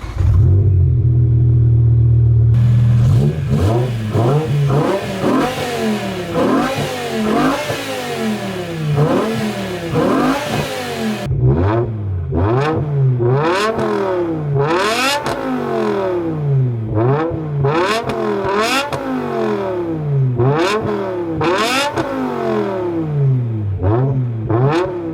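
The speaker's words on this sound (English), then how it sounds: "we'll get a few revs in" A BMW E60 M5 engine with an Eisenmann race exhaust and a destroyed gearbox revs repeatedly in neutral, rising and falling in quick bursts over a steady idle, loud and close.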